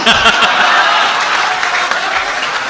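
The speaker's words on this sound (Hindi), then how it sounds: "जोरदार तालियां एक बार जहाज देवबंदी साहब के लिए।" Audience applause at a Hindi-Urdu comic poetry recital, a dense, steady burst of clapping from a large crowd that fills the whole moment without pause.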